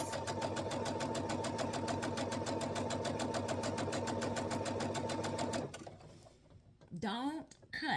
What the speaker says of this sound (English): let's do a long straight stitch. All the way across.